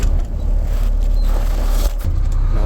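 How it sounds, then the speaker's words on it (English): A truck engine cranks and catches, then settles into a loud, close, rumbling idle with a brief drop partway through, heard alone without talk. "Start the truck."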